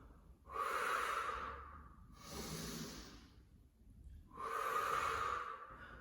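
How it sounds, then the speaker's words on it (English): Slow, deliberate breaths during a Pilates kneeling side kick and mermaid session: three long airy exhales and inhales, close and clear, with pauses between and no speech. "So we exhale, and then we inhale."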